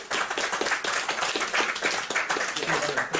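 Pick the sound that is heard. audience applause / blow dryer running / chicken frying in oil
audience applause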